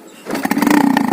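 A small motorbike engine starts up and revs unevenly, close and loud, its rough buzzing stutter rising after a quiet start.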